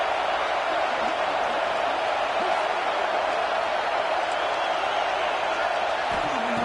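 Constant loud wash of stadium crowd noise in a football video game, cheering steadily for a red zone stop with no breaks, no clear talk over it.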